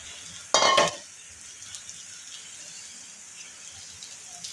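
An egg hits a hot pan atop a paratha and bursts into a loud, sudden sizzle that settles after a moment into a quieter, steady frying hiss.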